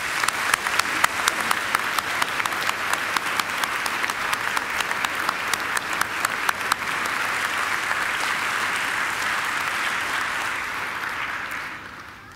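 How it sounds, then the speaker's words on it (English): Audience at a Macquarie University graduation ceremony applauding in a hall, dense sustained clapping with sharp individual claps on top that holds steady and then fades out at the end. "please join me in giving them a round of applause"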